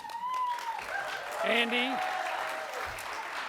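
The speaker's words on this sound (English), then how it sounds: "Let's give a big round of applause for our two MCs." Audience applause at a business pitch contest during an innovation summit, a steady wash of clapping under a speaker's voice that continues over it.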